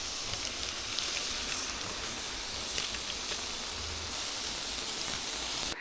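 Smash burger patties topped with Havarti dill cheese sizzle on a flat griddle, a steady close hiss that holds at an even level throughout with no talking.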